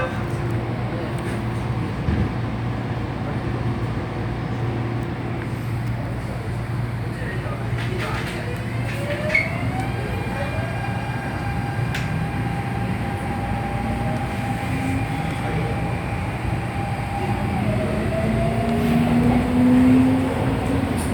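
An MTR Tung Chung line CAF train departs from Kowloon toward Tsing Yi, heard from inside the carriage as a steady rumble with rising motor whine and rail noise building throughout, brief announcements overhead.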